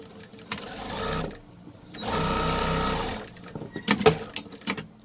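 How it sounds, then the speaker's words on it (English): Sewing machine stitching down the side of a fabric Easter basket bag, two sustained runs of rapid motor-driven stitching with quiet pauses and a few handling clicks and knocks near the end. "Sew down the other side."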